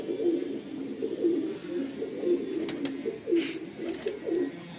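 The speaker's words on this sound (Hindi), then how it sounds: "पाकिस्तानी कबूतर है ये डब वाला" Pakistani dub pigeon cooing in a steady repeating rhythm, soft low coos about once a second, close by with faint background noise and no talk.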